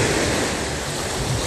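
Sea waves break and wash onto a shore in a steady, loud, broadband roar with no pauses, heard alone without any voices.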